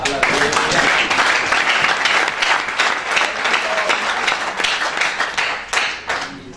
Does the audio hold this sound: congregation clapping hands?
yes